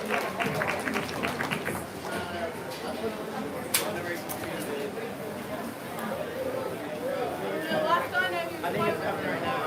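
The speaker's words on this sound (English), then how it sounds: "So let's give them all a big round of applause." Crowd applause at a hog show, with scattered clapping and chatter from the stands under a voice over a public-address system.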